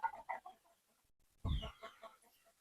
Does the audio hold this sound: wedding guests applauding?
no